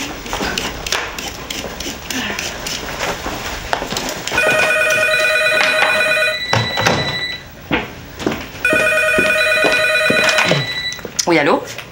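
Telephone bell ringing in two long bursts at a home during a family scene, loud and close, with footsteps and knocks around it and people talking.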